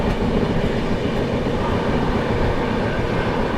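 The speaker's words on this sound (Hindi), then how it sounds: "चलिए ट्रेन अपनी निकल चुकी है अलीगढ़ जंक्शन से" Rewa–Anand Vihar express train 12427 running at speed on a triple-line section after leaving Aligarh Junction, a loud, dense, continuous rumble of wheels and carriages from on board.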